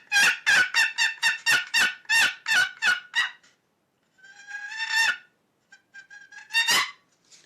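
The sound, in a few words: turkey call device imitating turkey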